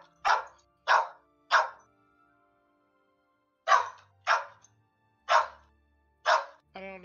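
A dog barks close by in short, loud single barks, three in quick succession, a pause, then five more spaced out, with a brief whine at the very end.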